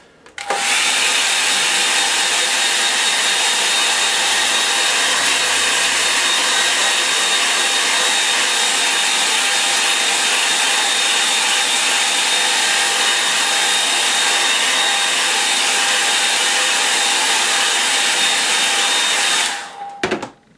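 A hair dryer blasts over a wet watercolour painting of rain on a Scottish lake, a loud, steady close-up whine and rush of air that starts and stops abruptly, running about twenty seconds alone.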